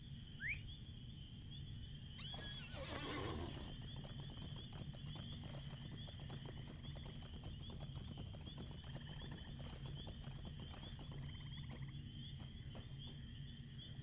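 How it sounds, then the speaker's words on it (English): Video game hooves clip-clop in a quick, steady rhythm with faint chirping ambience behind them, and a brief snort or whinny appears early on. No one speaks. "Horsey, horsey."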